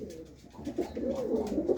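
A pigeon coos softly and repeatedly nearby, a low murmuring call with no other sounds.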